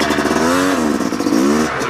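Yamaha YZ250X two-stroke dirt bike engine revving loud and close, with two rising-and-falling rev sweeps at a race track.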